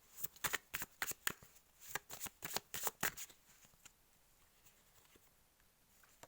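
Tarot cards shuffled by hand in a run of crisp, rapid riffling bursts for about three seconds, then quiet with faint room noise.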